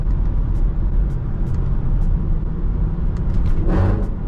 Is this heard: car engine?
yes